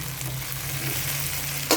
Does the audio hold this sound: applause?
no